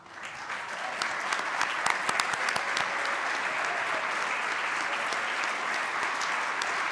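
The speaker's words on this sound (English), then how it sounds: "Let's give them a round of applause" Conference audience applauding at a centennial luncheon, dense sustained clapping that swells at the start and holds steady, with a few sharper claps standing out, moderately distant.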